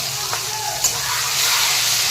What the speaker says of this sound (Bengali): তারপরে পেঁয়াজটা ঢেলে দেবো ফুটছে কিরকম দেখো